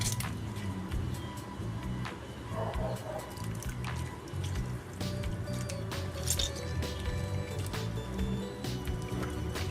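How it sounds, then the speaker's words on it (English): Lemon squeezed over raw Cascadoux (hassar) fish before washing it, a steady stream of wet squishing and dripping juice with scattered small splashes, close and continuous throughout. "So I'm just going to squeeze a lemon."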